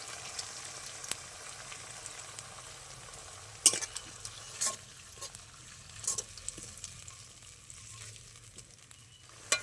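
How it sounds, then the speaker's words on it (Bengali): Onion, tomato and spice paste sautéing in a pan, a quiet steady sizzle with occasional soft scraping and clinks of a spoon stirring, no talk. "এবার ভালো করে আমি কষিয়ে নেবো পেঁয়াজের সাথে টমেটো।"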